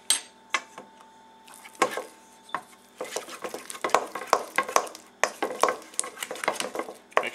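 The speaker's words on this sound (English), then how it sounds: "take your 4 ounces of softened cream cheese, put it in a large bowl, and now we need to beat this" Softened cream cheese being beaten in a large bowl, with irregular clinks and scrapes of the utensil against the bowl, quick and close, sometimes in short bursts.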